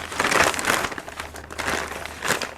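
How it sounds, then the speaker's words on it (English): An old plastic potting bag, turned inside out, crinkles and rustles as it is handled up close in a garden, irregular crumpling bursts in several waves without speech. "potting plastic bag which I've turned inside out so it's less obtrusive."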